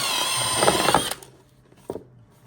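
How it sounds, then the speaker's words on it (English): A high-pitched power drill with an 1/8 inch bit whines for about a second, then stops abruptly, followed by a brief clunk and near silence. "I'll drill a hole right there."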